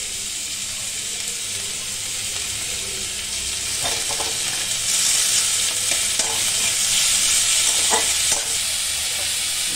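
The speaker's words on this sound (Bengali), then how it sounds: "একটু নাড়াচাড়া করে নিলাম। এটা তোমার রসুন আছে," Garlic, ginger and green chili paste fry in a pan, a continuous hiss and sizzle that swells louder midway, with scraping stirring strokes at intervals and no talking.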